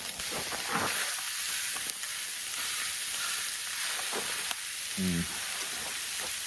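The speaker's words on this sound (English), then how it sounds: "It's frying up nicely though." Food sizzling steadily in a hot pan, a broad continuous hiss with a few clatters of a utensil and a brief murmur of a voice.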